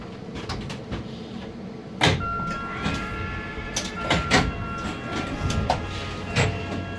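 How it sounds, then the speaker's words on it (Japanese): Hakone Tozan cable car at a station stop, with sliding doors opening on both sides amid clunks and rattles, a steady electronic tone, and interior rail-car ambience. "お出口は両側の扉が開きます"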